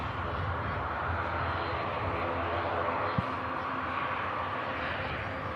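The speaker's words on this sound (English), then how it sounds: "got the Isle of Man special. Logan Air ATR." A steady broad roar of a Loganair ATR turboprop at Manchester Airport, continuous and moderately distant, with a faint voice over it.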